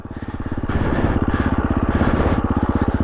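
A KTM 350EXC dual sport motorcycle chugs off-road through brush, its single-cylinder engine throbbing in a fast, even pulse that rises as the throttle opens, close and loud with no talking.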